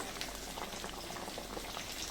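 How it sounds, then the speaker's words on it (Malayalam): Masala paste for a fish curry boils in a pan, giving off a dense, steady bubbling and popping that stays close and even throughout, with no voices. "അരപ്പ് തിളച്ചിട്ടുണ്ട്"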